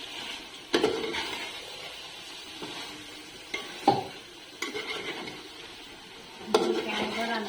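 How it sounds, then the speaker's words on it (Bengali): Meat curry with spices and large potato chunks simmers in a pot, a soft sizzle running beneath scattered clinks and scrapes of a spoon stirring against the metal, near and moderately quiet. "এখন মশলা দিয়ে মাংস রান্না করতেছি।"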